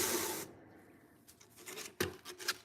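A knife is ground on a 120 grit Kubatron belt grinder: a brief harsh rasping burst at the start, then quieter intermittent scraping and rubbing strokes, fairly faint overall with no talking.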